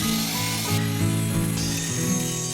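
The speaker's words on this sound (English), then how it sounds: "right now we're planing scrap 2x4s" A power planer shaves scrap 2x4 lumber, a loud, steady machine whine with strong tonal bands holding throughout and a few shifts in pitch as the blade takes the wood.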